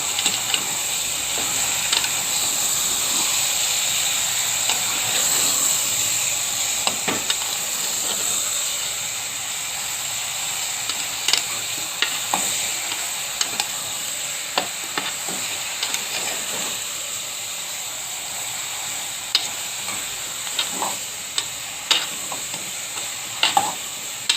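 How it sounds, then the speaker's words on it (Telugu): Turmeric is stirred into brinjal curry frying in a pan, a steady loud sizzle running throughout with scattered sharp clicks and scrapes of the spoon against the pan. "ఇది మొత్తం బాగా కలుపుకుందాం."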